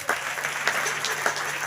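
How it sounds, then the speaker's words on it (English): An audience at a youth summit in an arena claps in a brief, steady burst of applause, the clapping dense and continuous throughout. "And please, a big round of applause for him."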